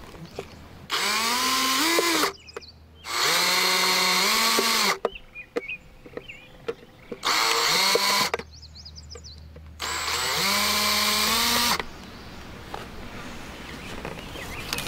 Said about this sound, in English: And then I'll drill them in.